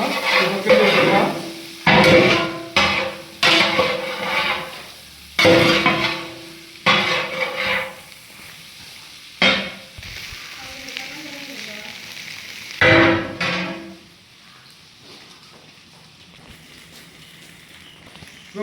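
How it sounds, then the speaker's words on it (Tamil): Chinese fried rice is tossed and stirred in a large wok, giving a run of loud, bursty metallic scrapes and clangs with sizzling between them, then a quieter stretch with some background voices. "இப்போ கிண்டி வச்சுக்கலாம்."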